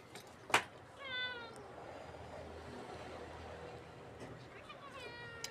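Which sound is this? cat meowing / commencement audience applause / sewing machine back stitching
cat meowing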